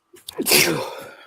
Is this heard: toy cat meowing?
no